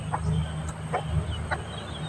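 Farm chickens cluck in short, soft bursts, a few separate calls spaced across two seconds over a steady low outdoor hum.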